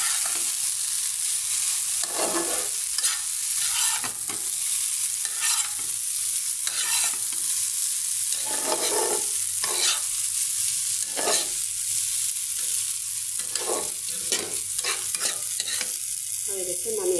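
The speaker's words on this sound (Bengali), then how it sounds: "নুডলস করলাম ইফতারিতে খাওয়ার জন্য" Noodles being stirred and fried in a pan for iftar: steady loud sizzling throughout, broken by repeated scraping strokes of a spatula at an uneven rhythm, close up, with no voices.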